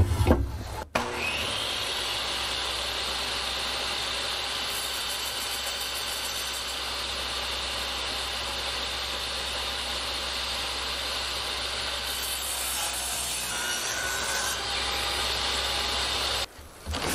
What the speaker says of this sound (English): hopefully when I pass through this wood, I'll just put a slit right through there